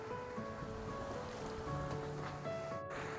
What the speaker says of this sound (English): It's a little bit rolly, but it's nice to be sailing.